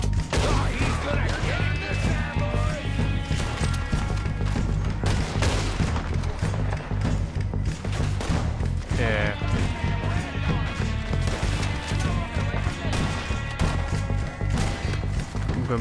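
Gunfire in Red Dead Redemption 2 crackles and booms constantly through a chaotic shootout, with dense overlapping shots and crashes and a voice talking at times.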